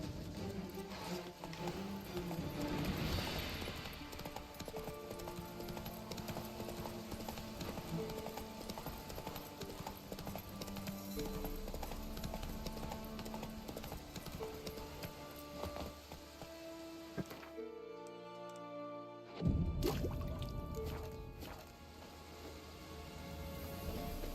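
In a video game, the horse Roach walks with a steady clip-clop of hooves over a continuous musical backdrop, moderately loud, with a short drop-out near the end.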